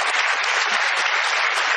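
A TV studio audience breaks into dense, steady applause, loud and continuous throughout, with no voices on top.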